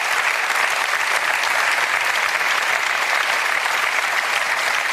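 Dense, steady studio audience applause on a German sports television show, loud and even throughout with no voices on top.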